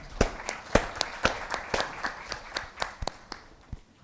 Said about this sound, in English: Big round of applause for Mr. Senthil.